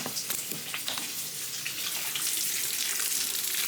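Hot tap water runs into a kitchen sink while a child's cup is rinsed, a steady, soft splashing hiss that continues without pause.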